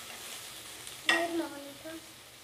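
Chopped onion and green chili sauté in a pan, with a brief burst of sizzling and stirring that quickly settles into a soft, faint fry.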